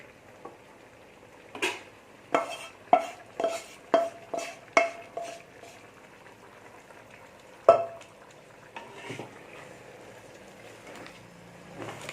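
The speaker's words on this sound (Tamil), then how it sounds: "இந்த சமயத்தில் நம்ம இந்த நண்டு கூட்டை இதில் ஊற்றி கிளறி விட்டுருவோம்" Crab gravy stirred into half-cooked rice in a pot for crab biryani, a quick series of close metal spoon knocks and scrapes against the pot, then a single loud clank and softer stirring.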